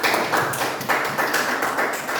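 A classroom of students claps together during a lesson on straight and crossover network cabling, producing dense bursts of hand claps that rise and fall in waves, fairly close and loud with no talk over them.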